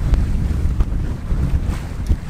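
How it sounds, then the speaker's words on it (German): A sailboat beating upwind in the English Channel against strong current, with gusty wind buffeting the microphone, low rumbling hull and water noise, and a few brief knocks, loud and continuous without speech. "Wir segeln. Es ist Wind da."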